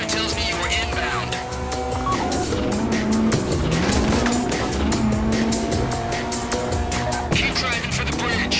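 A getaway car in GTA Online roars along at speed with a steady engine drone and repeated tire squeals and skids, loud and continuous, while a voice talks over it.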